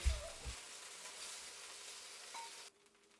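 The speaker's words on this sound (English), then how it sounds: "stir fry the beef for about 30 seconds to 1 minute until it is half cooked" Beef stir-frying in a hot oiled wok makes a loud sizzle that starts with a couple of knocks from the pan. The sizzle keeps going and then suddenly falls off to a faint hiss near the end.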